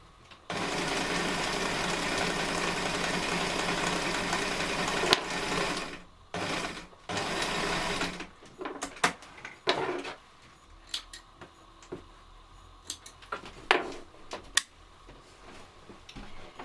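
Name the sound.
sewing machine stitching a reusable sanitary pad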